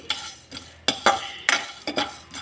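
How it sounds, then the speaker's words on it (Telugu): Spices, including dried red chillies, being stirred and lightly fried in a pan for an eggplant dish, with sharp scraping strokes of a utensil at irregular intervals over a faint sizzle. "కొద్దిగా లైట్గా వేయించుకోవాలి ఇవి కొంచెం వేగిన తర్వాత"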